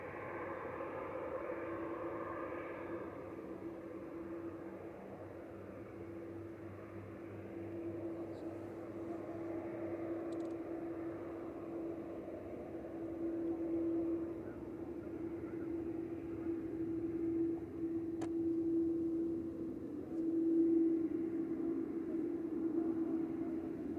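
A Qatar Airways Boeing 787-9 Dreamliner departing Manchester Airport at evening gives a steady, distant jet whine and low roar that swells gradually as it powers up for takeoff.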